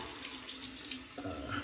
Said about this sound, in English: let me turn the water down here.